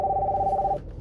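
A mobile phone ringing with an incoming call, a steady electronic ring tone that sounds close and clear for most of a second and then cuts off.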